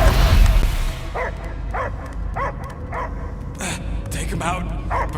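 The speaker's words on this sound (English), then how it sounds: "I hear only barking." Several short dog barks and yips in the Guardians of the Galaxy video game, spaced at a steady rhythm and moderately loud, after a brief low rumble at the start.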